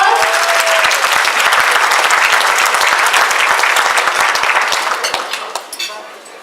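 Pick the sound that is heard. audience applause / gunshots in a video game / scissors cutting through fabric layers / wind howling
audience applause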